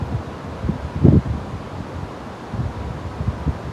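Wind blows steadily outdoors at a seaside Thai temple, a low continuous rumble with brief stronger gusts buffeting the microphone.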